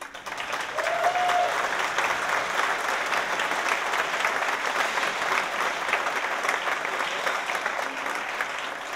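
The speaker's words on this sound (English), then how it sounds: "That is a richly deserved round of applause" An audience at a Moog synthesizer music event applauds a performer with dense, sustained clapping that stays loud and even for the whole stretch, with no talk over it.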